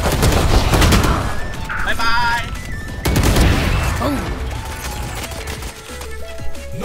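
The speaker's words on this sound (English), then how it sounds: "I have machine gun in my hand bro." Machine gun fire in the Valorant video game, rapid overlapping bursts with booms, loud and busy throughout, layered under in-game sound effects and people talking.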